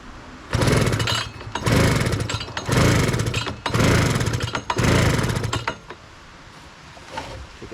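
Late-1990s Honda Harmony lawn tractor engine on choke, cranking in four loud rhythmic bursts of roughly a second each, separated by brief pauses, before falling quiet.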